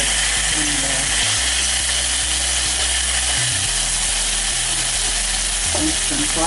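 Lamb shoulder sears in a hot pan with a steady, loud sizzle that runs throughout, with low rumbling and occasional clatter beneath it and a voice talking over part of it.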